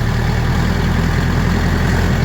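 A DTZ 40-horsepower tractor engine idles steadily up close, a continuous low rumble with an even mechanical throb and no voices.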